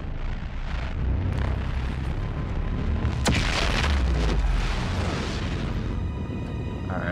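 A spaceship blasts off in Dead Space 3: a loud, sustained roaring rumble with a sharp burst partway through, continuing unbroken to the end with no talking.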